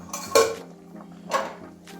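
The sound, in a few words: lid being lifted off a cooking pot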